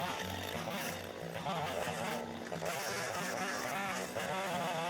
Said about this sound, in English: The chainsaw I'm using really isn't sufficient for the job,